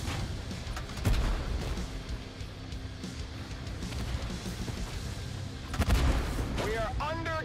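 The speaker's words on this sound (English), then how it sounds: "We are under gunfire." Repeated booming tank cannon shots and bursts of gunfire crackle through a dense, rumbling battle din in the video game Tank Force, with a voice speaking briefly near the end.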